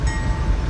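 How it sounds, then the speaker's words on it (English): A Roblox video game train, CSX freight Q360 from Cincinnati to Avon, Indiana, passes at Hamilton with a steady, loud low rumble and faint high tonal lines, no talking. "The first train we catch in Hamilton that week is Q360."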